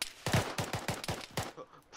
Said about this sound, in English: Stop shooting at us.